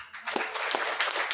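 A church congregation applauding together during a worship service: dense, steady clapping at moderate volume that carries on throughout without a break.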